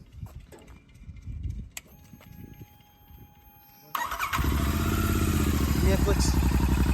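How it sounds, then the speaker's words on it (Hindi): A Royal Enfield GT 650 motorcycle with dB killers fitted in its exhaust starts up and settles into a loud, steady, throaty idle close by, after a few seconds of quieter talk and handling sounds. "मैं डीबी कलर के साथ भी स्टार्ट करके दिखाता हूँ आपको डीबी कलर के साथ कैसी लग रही है।"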